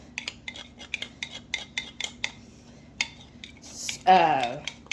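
A spicy syrup gets a quick stir in a pan, with a run of sharp, close utensil clicks and scrapes in a steady rhythm, then a brief louder swirl near the end.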